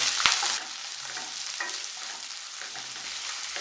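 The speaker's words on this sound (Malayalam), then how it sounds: "ഇത് ചെറുതായിട്ടൊന്ന് വഴറ്റി കൊടുക്കാം." Onions with cinnamon sautéing in a pan for a kurma curry, a steady close sizzle with stirring scrapes, loudest in the first half-second and then settling into a softer continuous fry.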